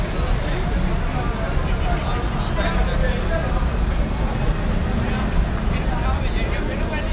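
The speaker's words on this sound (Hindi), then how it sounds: "न्यू सुबहान बस टर्मिनल फैसलाबाद, न्यू सुबहान।" Busy bus terminal in Faisalabad for flying coaches, with continuous dense traffic rumble and crowd babble, steady and fairly loud throughout with no clear breaks.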